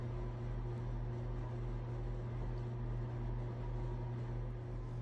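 An electric mixer beats sour cream pound cake batter with a steady, unbroken motor hum that holds at a moderate level from start to finish, with no talking.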